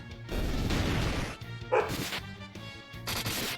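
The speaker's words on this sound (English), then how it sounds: "My dog is barking at me again." A pet dog barking loudly nearby in three clustered bursts of sharp barks and yips, with short pauses between them and no talking.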